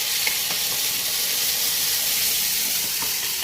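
Ground spice paste dropped into hot oil for a spicy village-style potato curry, a loud continuous hissing sizzle with faint scattered crackles.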